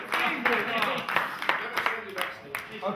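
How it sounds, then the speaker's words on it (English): Small group at a poker games night applauding a player, a short round of scattered claps with a voice speaking over part of it. "Round of applause for Jota!"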